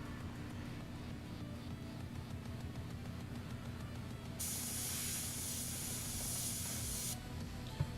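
An airbrush sprays paint onto a model, giving a steady bright hiss that starts partway through, holds for a few seconds and then cuts off over a low background hum.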